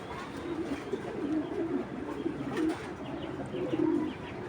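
Domestic pigeons in a pigeon seller's loft cooing in repeated low, soft, throaty calls, several birds near the recorder over faint background noise with no talk.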